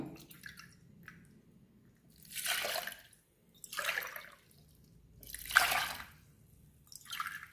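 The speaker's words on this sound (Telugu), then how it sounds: "2 గ్లాసులు వాటర్ పోసుకుందాము." Water pours into a pot of toor dal in several short splashing bursts with pauses between them, close by and fairly loud.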